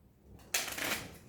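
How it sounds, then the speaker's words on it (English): Dragonwood game cards being shuffled, a soft buildup followed by a brief, crisp papery rush of cards riffling together, fairly quiet and close. "Split it in half, and then shuffle the 2 dragon cards into the bottom."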